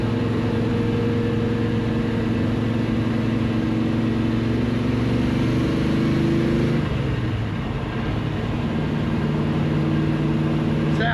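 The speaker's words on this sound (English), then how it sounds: "Do a little rolling through the gears here." A 1964 Chevrolet Malibu SS on a cold test drive, its engine pulling steadily through the gears with rising harmonic tones that settle after a shift midway, loud and close from inside the car.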